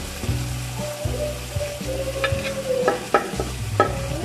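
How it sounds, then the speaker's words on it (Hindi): Carrots added to potatoes frying in a pot for chicken veg pulao, with steady close sizzling, repeated stirring and scraping strokes, and a few sharp clinks of a spoon against the pot. "आलू डाल दिए, ये अब गाजर डालेंगे"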